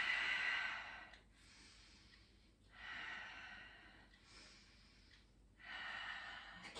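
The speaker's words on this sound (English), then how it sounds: "Keep breathing here." Slow, deep breaths during a yoga stretch, three long airy exhalations separated by quiet pauses, close and soft with no talking.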